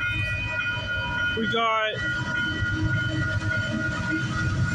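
A freight train led by locomotive 8038 with a GP38 unit in the consist rumbles steadily past at Bartlett Avenue in Toronto, with a brief horn blast partway through and a person speaking briefly over the noise.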